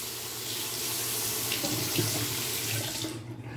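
A tap runs steadily into a sink for rinsing during a shave, a close, full gush of water that continues throughout and ends abruptly.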